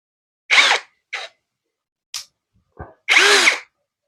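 An MLHY M-60 cordless 10mm impact drill is triggered in short bursts with no load, two longer whirring runs and a few quick blips separated by silence, recorded close up.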